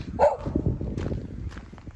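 A loose hound-type dog on the North Country Trail in Pennsylvania in winter gives a single sharp bark near the start, followed by quieter outdoor rustling and steps.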